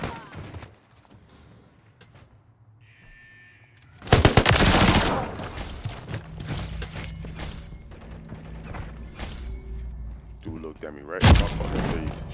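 Gunfire from the video game Call of Duty: a loud, dense burst of automatic fire followed by scattered shots, mechanical clicks, and another sharp volley near the end, with a player's voice between the shots.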